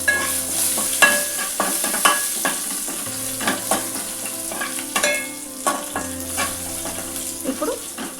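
Dried red chillies, curry leaves and crushed garlic sizzle in hot oil while a spoon stirs them, giving steady frying crackle with repeated scraping and tapping against the pan, close and continuous.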